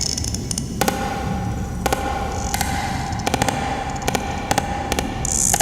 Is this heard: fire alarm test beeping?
no